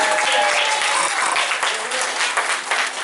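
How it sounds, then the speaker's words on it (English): At a unity luncheon, an audience gives the political candidates a steady, full round of applause, dense hand clapping filling the room evenly throughout. "round of applause for the incredible jobs that they did"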